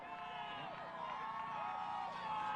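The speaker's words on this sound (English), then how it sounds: "The crowd is trying to encourage him" A crowd cheers a motocross rider struggling up the final hill toward the finish line jump, a dense, fairly distant roar with whoops rising and falling, mixed with engine whine and talk.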